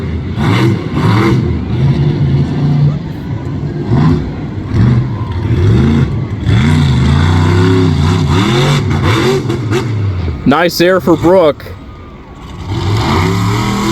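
Monster truck engine revving hard during a freestyle run at a Lebanon Valley motorsports event, loud, continuous and surging, with crowd noise and a commentator talking over it.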